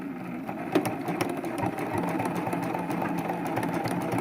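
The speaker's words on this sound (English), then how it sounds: "I'm going to start sewing and then do some back stitching." A sewing machine stitches along the edge of a quilted throw pillow, running in a fast, steady close-up whir with a short pause near the start and no speech.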